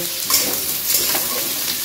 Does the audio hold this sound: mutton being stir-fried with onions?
yes